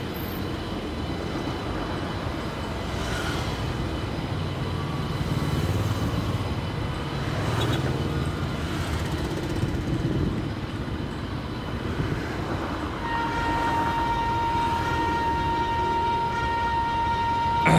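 Tejas Express pulling out of Borivali station in the MSTS Indian train simulator: a steady, moderately loud rolling rumble of train and engine noise with a sustained horn-like tone in the latter part, no talking.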